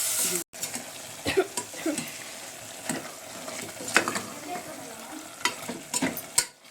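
Food with yogurt and a pinch of turmeric is stirred and sizzles in a pan in a home kitchen: a steady fry hiss under repeated scraping stirs, close and moderately loud, with bits of talk.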